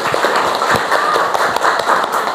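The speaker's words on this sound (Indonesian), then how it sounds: "Ya, tepuk tangan." A room of people at a group presentation applauds, a dense, loud patter of many hands clapping continuously for a couple of seconds.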